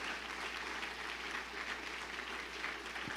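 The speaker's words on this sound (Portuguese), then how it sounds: "aplauda forte" A church congregation applauds steadily, a dense, fairly faint and even patter of many hands clapping under a low constant hum, with no voices over it.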